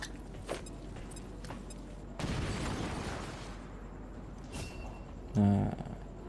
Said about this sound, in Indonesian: gue ngelempar granat aja ke arah musuh supaya posisinya kebuka